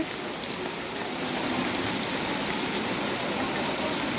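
Steady, dense rain falls close by, a continuous even hiss of drops on surfaces that holds at the same level throughout, with no voices.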